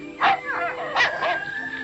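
A faithful farm dog on a small homestead gives a couple of short yips and whimpering barks close by, rising and falling over a couple of seconds, with faint background sound beneath.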